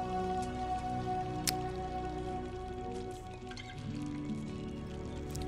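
Steady rain falls outside a window in the point-and-click game Gray Matter, a soft continuous patter with scattered drips, heard alone without speech.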